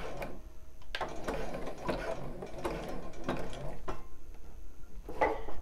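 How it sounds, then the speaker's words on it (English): A sewing machine backstitches a bra seam in a series of short, rapid mechanical stitching bursts, close and fairly quiet, separated by brief pauses. "I will backstitch this to make sure it's super secure."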